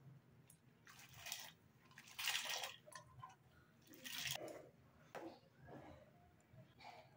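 Washed lentils tipped into a pan of hot water for a Chettinad banana-flower kootu, giving a few soft splashing, pouring and squishing bursts with quiet gaps between them, close and fairly faint.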